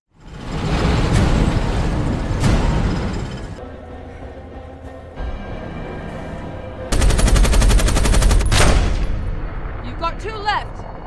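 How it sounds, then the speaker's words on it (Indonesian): Bursts of rapid gunfire from a car rattle loudly over an engine roar, with dramatic music and brief voices mixed in. "salah satu mobil dari pasukan Joe mulai mendekat dan menembaki mereka"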